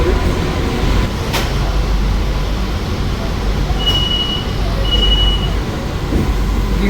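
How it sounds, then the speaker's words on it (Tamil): Onboard a new AC EMU electric train while it runs: a steady, loud rumble of wheels and motors with faint clicks and a brief high whine now and then. "சவுண்டு இந்த இஎம்யூவில் நீங்கள் கரெக்டாக உணரலாம்"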